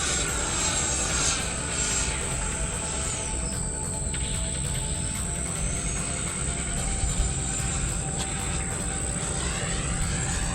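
An E-flite F-16 RC model jet on a high-speed pass, its steady ducted-fan whine running loud and continuous throughout, with faint insect chirping in the background.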